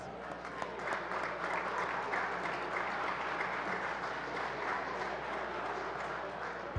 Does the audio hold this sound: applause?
yes